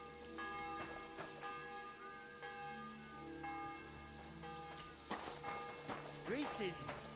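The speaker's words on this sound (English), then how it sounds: "this is the breakfast bell" A church-style bell in the medieval world of Kingdom Come Deliverance 2 rings the breakfast call, several distinct strikes with long ringing decay over soft rain and ambient murmur, then busier activity near the end.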